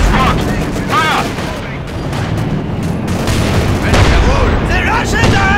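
Dense battlefield gunfire from the World War II strategy game Company of Heroes 2, rifle and machine-gun bursts and booms layered over a constant rumble, with shouted voices mixed in throughout.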